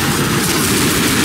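Dense, continuous rattle of pistol gunfire from the Left 4 Dead video game, loud and unbroken across the short stretch with no pauses between shots and no talk.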